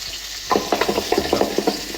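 Onion and garlic fry in oil for kabsa: a sizzle broken by a quick rhythmic run of stirring scrapes and clinks of utensil against pot.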